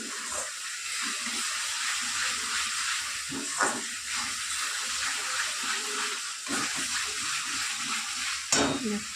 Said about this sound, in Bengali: মশলাটা তোমাদের ভালো করে কষতে হবে যত ভালো করে কষবে তেল ছাড়বে